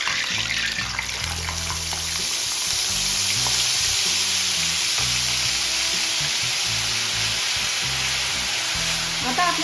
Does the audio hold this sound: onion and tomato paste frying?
yes